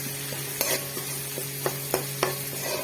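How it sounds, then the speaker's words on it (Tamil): Small onions sauteing in a pan on high heat: a constant sizzle punctuated by several crisp stirring scrapes at uneven intervals, close and clear, with no voices. "சின்ன வெங்காயம் நல்லா வதங்கி திரும்பி வரணும்."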